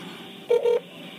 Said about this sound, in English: It should be connecting here, so give it a second. There you go. Can you hear that? Can you hear it? Now somebody will be answering the phone.